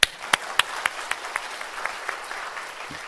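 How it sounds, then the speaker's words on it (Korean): A church congregation claps together in unison, a series of distinct synchronized claps at a steady rhythm that gradually soften and blur into scattered applause, fairly close and without talk over it. "우리 박수 한번 합시다."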